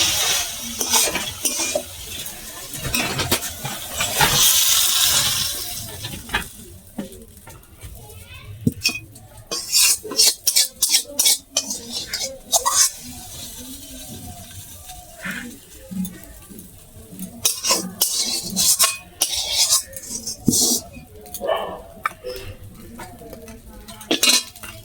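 A shrimp, water lily and potato curry is scraped and spooned from a pan onto a plate, with intermittent clinks and scrapes of metal utensils against cookware and a voice talking at times.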